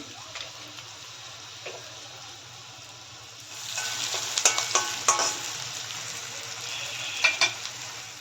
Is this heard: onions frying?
yes